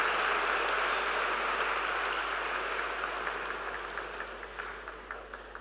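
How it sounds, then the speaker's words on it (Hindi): Audience applause for Dadi Ji at a spiritual gathering, a dense, steady patter of many hands that gradually thins and softens toward the end. "एक बार ताली दादी जी के लिए।"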